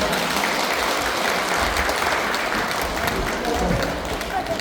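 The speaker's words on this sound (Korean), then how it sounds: "다시 한번 큰 박수 부탁드립니다" Applause from a congregation at a Won Buddhist Sunday service, welcoming children, as steady, dense clapping that fills the room with voices underneath.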